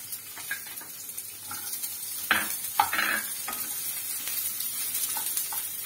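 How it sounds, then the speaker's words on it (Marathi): Finely chopped onion dropped into hot oil with bay leaf and whole spices in a pan, a steady close sizzle with a few louder bursts of hissing and stirring scrapes, no voices. "आता आपण याच्यामध्ये टाकणार आहोत बारीक चिरलेला एक कांदा"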